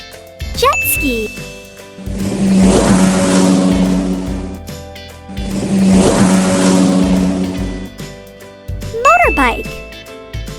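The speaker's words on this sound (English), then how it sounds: "Jet ski." A jet ski engine revs up twice in long loud surges, each swelling and dropping away, with short chime-like jingles before and after.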